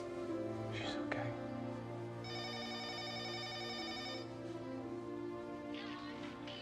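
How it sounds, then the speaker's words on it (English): A telephone bell rings in a steady electronic trill for about two seconds, heard indoors at moderate volume over a low background hum. "the phone's ringing"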